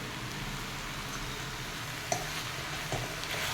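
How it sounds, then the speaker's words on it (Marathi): Green pulao rice with chutney and garam masala being mixed in a pan, a faint continuous sizzle with a couple of soft stirring knocks, heard close and alone. "हे छान मिक्स करून घेऊया"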